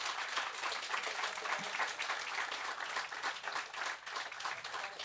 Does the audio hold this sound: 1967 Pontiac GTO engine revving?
no